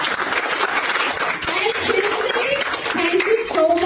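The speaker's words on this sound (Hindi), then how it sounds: "उनके लिए तालियां हो जानी चाहिए" Audience applause at a Hindi-language event, with a continuous wash of clapping that holds steady while a voice talks over the later part.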